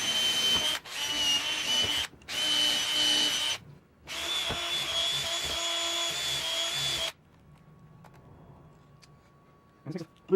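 A power drill tightens clamps onto a wooden board, running in loud sustained bursts with short pauses between them, then stopping into a quiet stretch with faint handling noises.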